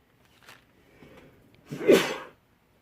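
A single sharp sneeze, preceded by a faint breathy intake, close and fairly loud against an otherwise quiet background.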